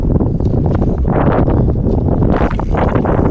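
Strong headwind buffets the microphone of a cyclist in loud, continuous gusts, a roaring rush that swells and dips without pause.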